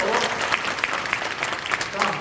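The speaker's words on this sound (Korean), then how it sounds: "박수로." Applause from the delegates at a church general assembly, a broad steady patter of many hands filling the room for about two seconds with no voices on top.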